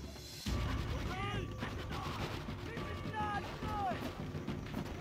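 Rapid gunfire and battle noise from Call of Duty: World at War on the Wii fill the stretch steadily, with bursts of shots and whistling effects continuing, and game voices shouting over the top.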